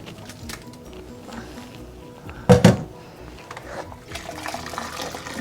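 Hot water from boiled bitter leaves poured into a sieve while making Nigerian bitter leaf soup, a short loud splashing gush in the middle over a steady kitchen background, with quieter trickling afterward.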